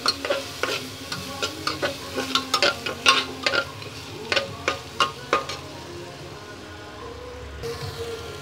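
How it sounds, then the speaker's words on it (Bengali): Mung dal is fried in a pressure cooker while a spatula stirs it in a steady rhythm of close scraping strokes over a continuous sizzle, with the stirring stopping near the end and no voice over it. "প্রেসার কুকারে ডালটা ভাজছি"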